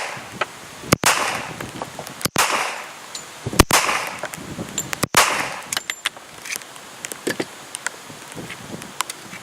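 Five gunshots from button-head reloaded rounds, sharp cracks spaced a second or more apart over light rain and outdoor background.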